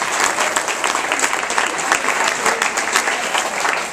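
Audience applause fills a room at a motivational business talk, a dense, steady wash of many hands clapping close and loud for the full four seconds, with no voices on top.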